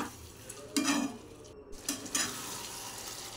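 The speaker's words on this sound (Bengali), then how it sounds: "আলুটার মাংসটা মশলার সাথে ভালো করে কষিয়ে নেব। তখন একটু নেড়ে নিচ্ছি" Chicken and potatoes with spices being stirred and fried in a pot for chicken biryani, a soft continuous sizzle broken by a few scraping stirs of a utensil against the pot, close and moderately quiet.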